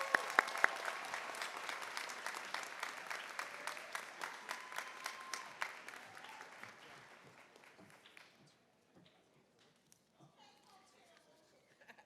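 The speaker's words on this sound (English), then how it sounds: "Please join me to give a round of applause for Ms." Applause from an audience at a West High School graduation ceremony, a dense crowd clapping that starts loud and gradually thins out and fades over about twelve seconds, leaving scattered claps.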